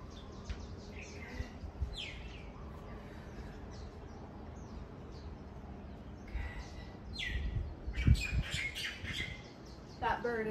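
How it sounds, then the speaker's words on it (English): A myna bird calls outdoors with scattered chirps and squawks at moderate distance, heard amid background noise with a louder burst of calls near the end. "That bird is called a mina bird."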